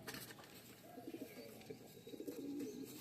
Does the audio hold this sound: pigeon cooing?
yes